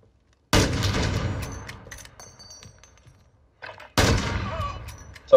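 Call of Duty: Modern Warfare firefight with two sharp, loud gunshot bursts separated by a quieter stretch of echoing tail and faint clatter, with some player talk mixed in.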